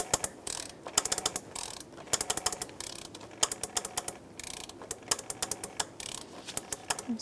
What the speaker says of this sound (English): 36 millimeter socket and our ratchet.